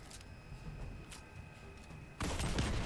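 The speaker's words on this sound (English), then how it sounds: "The explosions are cool." Explosions in the video game Destiny 2: a low, faint crackling rumble with a few soft pops builds into a sudden louder burst of blasts and debris near the end.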